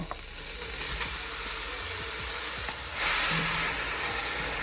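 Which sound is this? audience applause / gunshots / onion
onion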